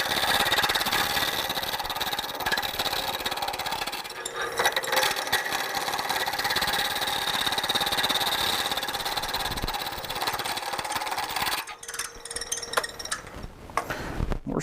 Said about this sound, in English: We're at the lathe with the Easy Wood tools